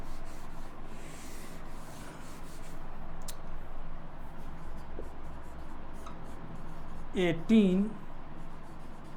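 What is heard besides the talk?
writing on a board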